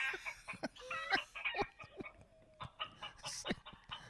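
A flock of about 40 chickens clucking and squawking close by in irregular bursts, a few sharp calls standing out over a busy yard.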